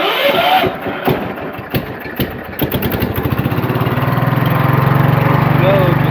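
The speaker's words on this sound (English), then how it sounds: "for an old welder generator, you flip the on switch up" An old welder generator's engine cranks in several uneven bursts, catches, then settles into a loud, steady, rapid chugging run, with someone talking briefly during the start.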